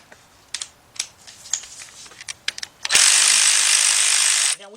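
Ratchet with a 14mm deep 3/8-drive socket turning the lower alternator bolt on a Nissan during head gasket work: a run of sharp, irregular clicks, then a loud, steady broadband rush lasting nearly two seconds.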